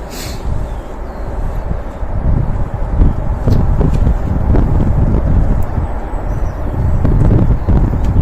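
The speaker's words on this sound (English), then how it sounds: "It is windy" Steady gusty wind buffeting the microphone, a low rumbling roar with occasional thumps and no talking.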